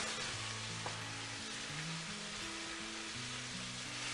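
Curry powder cooking in a pan for parsnip soup, giving a faint, even hiss of frying with no clear stirring strokes, while a voice hums or speaks softly in a low tone underneath.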